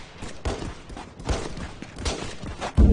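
Gunfire in the VR shooter Contractors: several scattered bursts of shots ring out at moderate loudness across the moment, with no one speaking.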